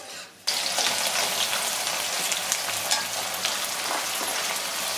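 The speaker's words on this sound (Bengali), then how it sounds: "ফোড়নটা দিয়ে নিচ্ছি, তেলটা পুরো গরম হয়ে গেছে" Whole spices for a tempering hit hot oil with a sudden loud sizzle, then spit and crackle steadily and close by for several seconds while a Bengali golki black pepper mutton dish is started.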